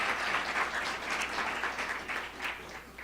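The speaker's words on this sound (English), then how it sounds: "everyone involved with this should get a round of applause for the amount of effort they put in" Audience applause at a symposium keynote event, a dense wash of many hands clapping at a moderate distance, continuous and fairly soft, with no talking on top.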